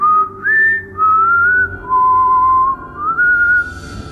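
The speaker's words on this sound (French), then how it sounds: "il commence à siffloter une mélodie effrayante" A man whistles a slow, eerie tune alone, sustained wavering notes sliding up and down in separate phrases with short pauses between them, close and clear.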